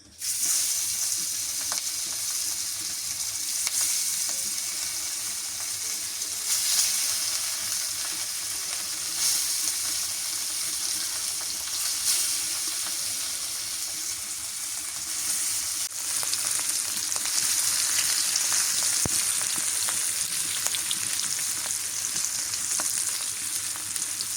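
Fish fries in hot oil in a pan, a dense, continuous crackling sizzle held at a steady close level for a long stretch, with small pops and a slight swell near the end and no talk.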